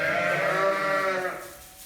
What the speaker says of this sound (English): So here comes some more sheep for you to look at.